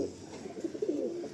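A female pigeon, an antique hen of a rare Malwai breed, coos softly in a low, throaty burble, with several rolling phrases close by and no talk.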